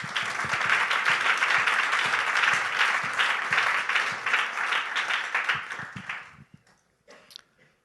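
A church congregation applauding, dense loud clapping that holds steady and then thins out to a few scattered claps before stopping.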